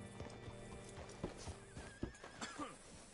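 In Red Dead Redemption, horse hooves clop in an uneven rhythm, followed by a short whinny, with faint game ambience around them.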